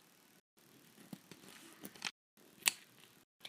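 Scissors snipping through a Ziploc bag, a few quiet crisp cuts and plastic crinkles in a short burst with brief pauses, close and faint.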